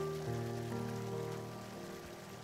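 Water runs softly and steadily in a peaceful valley setting, a faint continuous wash that fades slightly beneath a sustained, calm musical drone.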